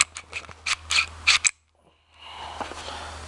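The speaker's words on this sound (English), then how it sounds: "I'll safety check this right now while I'm here." A 1911-style carry handgun is safety checked, with a quick series of sharp metallic clicks and slide racking close up, then a brief silence followed by soft handling noise.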